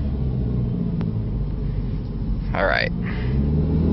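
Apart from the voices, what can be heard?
2003 PT Cruiser Dream Cruiser Series 2 driving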